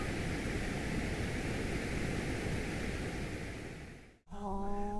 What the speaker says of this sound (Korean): 마지막으로 브라운 노이즈라는 게 있는데 브라운 노이즈는 고주파,